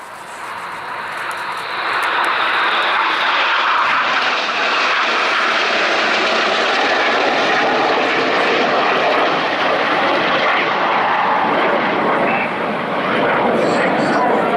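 Red Arrows display jets pass overhead at an airshow, a loud, broad jet roar swelling up after a couple of seconds and holding steady throughout, with a commentator's voice faintly underneath.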